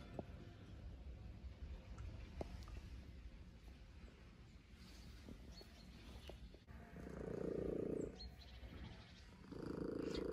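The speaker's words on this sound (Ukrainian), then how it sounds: "А це сусідський кіт." A neighbour's cat purrs softly and continuously outdoors in an autumn yard, a faint low rumble with a couple of louder bursts of noise toward the end.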